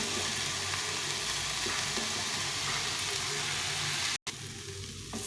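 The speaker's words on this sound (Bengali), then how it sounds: "করে নেড়ে নেড়ে ভেজে নিতে হবে কিছুক্ষণ ধরে" Bete shak greens being stir-fried in mustard oil in a pan, a steady loud sizzle with faint scraping of stirring throughout, broken by one brief cut near the end.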